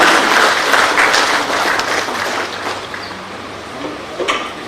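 An audience in a Jharkhand government project building auditorium gives a burst of applause to welcome the Chief Minister. The dense clapping starts loud, then gradually thins and fades.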